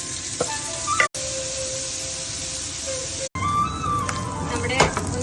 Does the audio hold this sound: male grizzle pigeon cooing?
no